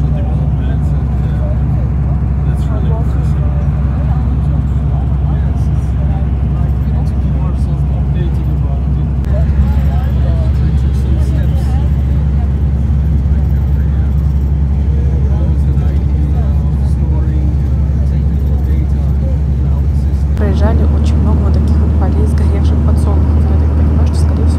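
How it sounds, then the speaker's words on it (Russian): A bus carries passengers on a four-hour road trip from Istanbul toward Şarköy, Turkey, its low steady engine drone and road rumble continuous throughout, with people talking over it. "Так что нас впереди ждет 4 часа поездки на автобусе."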